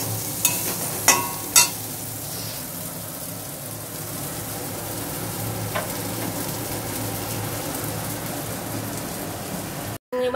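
Prawns fry in a pan with a steady, continuous sizzle throughout, broken by a few sharp clatters of stirring near the start and one brief scrape later, with no voices.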